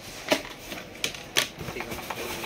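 Keys on a computer keyboard tapped while trying one out in a shop, a few sharp separate clicks close by, about four distinct presses with a faint room murmur between them.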